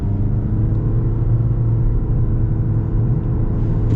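2022 Toyota Corolla Cross base model with a CVT accelerating, a steady, even engine drone and road rumble heard from inside the cabin, holding one level without shift breaks.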